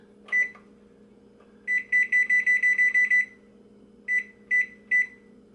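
A kitchen timer goes off in short electronic beeps, a single chirp, then a quick run of about nine, then three more spaced out, clear and close over a faint hum.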